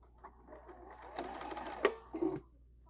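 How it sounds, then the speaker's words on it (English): A sewing machine stitches a quilt-as-you-go table runner in a short quiet burst, its motor whirring up and ending in a couple of sharper clicks. "Start stitching"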